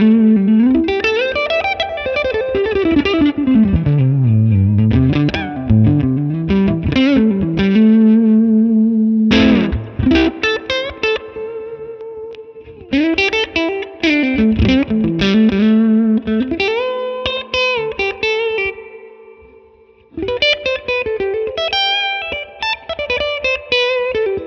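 Electric guitar on the neck pickup through an Amplitube 5 Mesa/Boogie California Tweed amp model, played as a loud solo run of sliding melodic lines and chords with distorted, effected tone and brief pauses between phrases.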